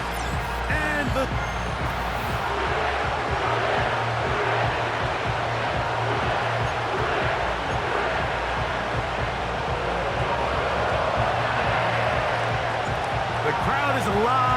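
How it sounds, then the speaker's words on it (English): Loud, steady crowd roar filling an NFL playoff game between the Pittsburgh Steelers and the Cincinnati Bengals at Paycor Stadium in an EA Sports football video game, continuous throughout with commentary talk over it. "crowd is alive, and with good reason"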